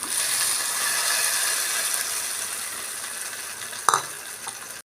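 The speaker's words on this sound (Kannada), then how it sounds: "ಒಂದು ಒಗ್ಗರಣೆ ತಗೊಂಡೆ" Mustard seeds and cumin sizzle and crackle in hot oil for a mint chutney tempering, a steady close frying hiss with a sharp pop near the end before it cuts off.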